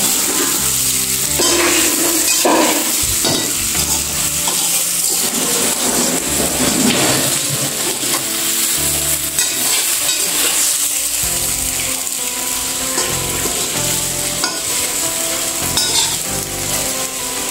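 Thick cooked besan flour dough being stirred in a hot pan, a steady sizzle with repeated scraping and stirring strokes, close and continuous with no talking.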